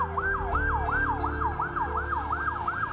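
An ambulance siren wails in a steady, rapid rising-and-falling cycle, loud and close, over a low vehicle rumble with no voices.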